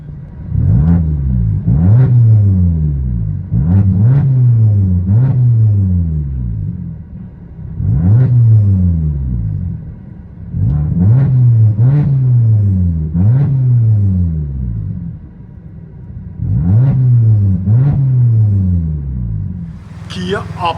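A 2012 Kia Optima 2.4L fitted with a CARVEN R-Series exhaust, rear delete and quad tips, heard from inside the cabin as the engine is revved repeatedly in loud, rising and falling bursts with short pauses between them.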